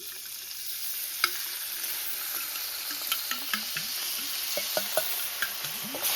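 Broth poured into roasted-garlic gravy in a hot pan bubbles and sizzles, with a steady hiss and scattered soft spoon taps and stirring scrapes, no talk.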